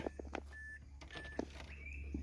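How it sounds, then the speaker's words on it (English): A thin electronic key-in-ignition warning beep chimes at intervals inside a Mazda car, short tones repeating amid soft clicks and rustling. "Take the key half out, it stops beeping at"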